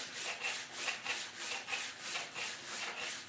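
A cylinder head from an LS engine being sanded by hand with sandpaper, a rhythmic back-and-forth rasping in even strokes about every half second, close and steady with no voices.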